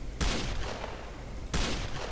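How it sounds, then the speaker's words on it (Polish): Gunfire in the video game S.T.A.L.K.E.R. Call of Pripyat: two loud, sharp shots about a second and a half apart, each with a short reverberant tail, and no voices. "taki perfidny strzał w mordę"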